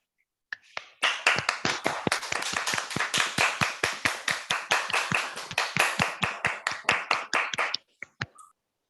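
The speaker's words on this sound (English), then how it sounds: "Can we all unmute ourselves and give this paper a round of applause?" Online audience members clap together after a mathematics talk on triangulated categories, a steady burst of about seven seconds of sharp, distinct hand claps with no talking, tapering to a few last claps.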